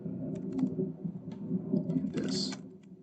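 Keys clatter on a computer keyboard in quick irregular bursts, close and moderately loud, with short pauses between strokes over a low steady room hum.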